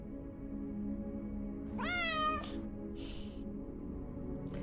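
A synthetic cat meow triggered by a stream chat command, one clear rising-falling call over a steady low background hum, followed by a short hiss-like burst.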